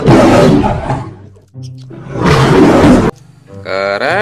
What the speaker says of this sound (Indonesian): ini ada singa.